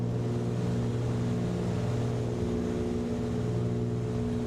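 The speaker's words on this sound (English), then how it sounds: "It's pretty cool engine sound." Steady, loud drone of the Flysimware C414 Chancellor twin piston engines in Microsoft Flight Simulator 2024, flying over Hawaii; a constant low harmonic hum with no talk over it.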